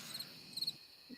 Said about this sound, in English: Why is Steve playing crickets?